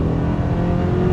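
A 2026 Hyundai Sonata N-Line accelerating hard from the driver's seat, its engine note a steady, loud, continuous drone rising with the pull and no pause across the short burst.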